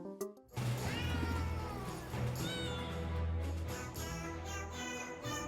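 Cartoon cats meow over and over in tune as part of the shop music in the video game Potionomics, a bright, steady loop with a bass line running beneath.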